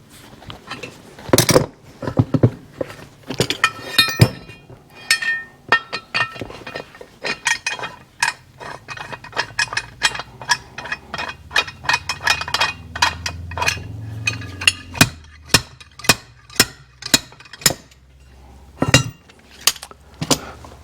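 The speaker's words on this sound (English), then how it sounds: "I'm going to see if the blind puller will pull these out." A blind puller works on parts in a Yamaha AT-1 MX engine, giving sharp metallic clinks, taps and clanks at irregular intervals, close and fairly loud, with some low rumbling handling noise in the middle.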